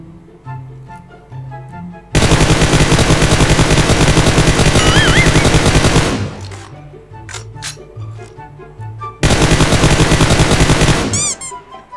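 Sustained automatic gunfire in PUBG Mobile, a loud unbroken rattle of rapid shots lasting about four seconds, then a pause with quieter game sounds and another burst of rapid fire near the end.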